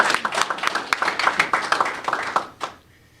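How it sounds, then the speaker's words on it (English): A press conference audience gives a round of applause for the Lieutenant Governor: dense hand clapping near and fairly loud for about two and a half seconds, then quickly fading to near silence. "Let's give her a big round of applause."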